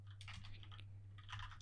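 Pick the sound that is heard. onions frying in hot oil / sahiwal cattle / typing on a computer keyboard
typing on a computer keyboard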